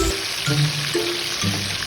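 Galunggong fish frying in hot oil in a pan, a steady bright sizzle throughout with faint low clinks.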